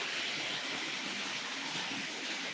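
A steady, broad whirring rumble of a Hornby Dublo or Tri-ang Transcontinental model train running continuously on a layout, with an even hiss and no talking.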